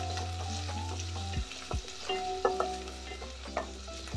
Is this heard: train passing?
no